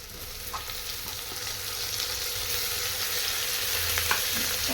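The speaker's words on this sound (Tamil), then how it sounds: "இப்போ நம்ம தக்காளி அதில் போட்டுருவோம்" Tomatoes hit a pan of frying mutton keema pasta with a steady, close sizzle and crackle, punctuated by a few soft utensil clinks, with no speech.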